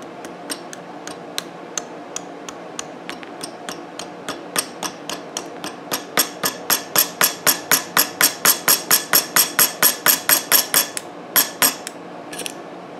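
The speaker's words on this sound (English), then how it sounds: "let me give this side a whack. Gentle whacks." Gentle hammer whacks on the side of a part of a 1971 Honda CB175 engine, a long series of sharp metallic taps that start sparse and then quicken into a steady, close, evenly spaced rhythm.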